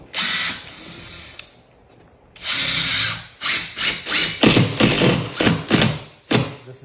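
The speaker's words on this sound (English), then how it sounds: "And I screw that right down into the old piece of flooring." Power driver sinking screws through a new board into old wooden flooring, several short whirring bursts in a stop-start rhythm, close and loud, with brief pauses between runs.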